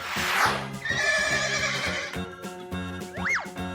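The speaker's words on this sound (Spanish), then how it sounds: "Caballo." A horse neighs over playful toy-video music, a rising and falling whinny near the end that follows a busy, loud musical stretch, with no voices.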